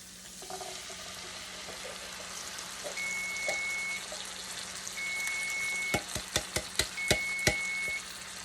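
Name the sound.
canned black beans with juice poured into pan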